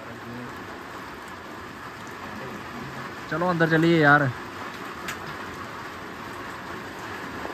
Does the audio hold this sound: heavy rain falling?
yes